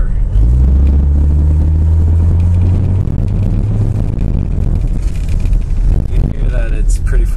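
A 1982 Mercedes 300TD turbo diesel with a straight pipe drives past, its low engine rumble steady and loud, with a turbo whistle rising near the end; a voice talks over it.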